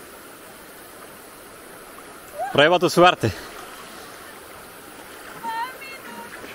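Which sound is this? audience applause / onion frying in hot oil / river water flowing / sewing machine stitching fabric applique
river water flowing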